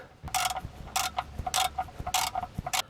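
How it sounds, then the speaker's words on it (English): A 5 mm hex key turns an oil drain bolt wrapped in PVC tape, producing a close series of five quick ratcheting clicks in a steady rhythm. "So I will attempt to screw in this bolt."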